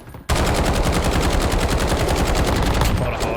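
AMAX assault rifle firing at a range in Warzone, a loud, sustained full-auto burst of rapid, evenly spaced shots that begins abruptly and runs for about three seconds.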